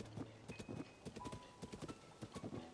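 Horse hooves clip-clopping at a brisk riding gait in Zelda: Tears of the Kingdom, a rapid regular patter of hoofbeats with a short whinny-like tone, quiet and alone without speech.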